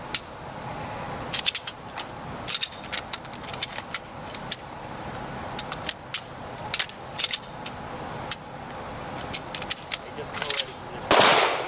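Handgun practice on a firing range, with sharp dry-fire clicks and scattered loud gunshot cracks going off near and far in irregular bursts, over steady outdoor background noise.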